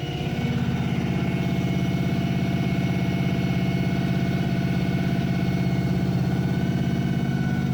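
Ford Mustang engine, damaged and parked for over ten years, idles steadily after its first fire-up and cam break-in, a constant even rumble close by with no voices.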